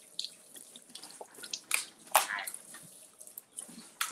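Hot tap water splashes and trickles into a sink while a sheet of rice paper is rinsed, with brief close bursts of running water and a few drips amid quiet handling noises.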